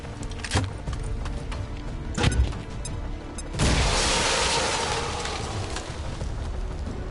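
A frost bomb detonates in XCOM 2, a broad icy burst that swells suddenly and then lingers as a dense hiss, with sharper thumps and impacts sounding earlier against a busy game backdrop.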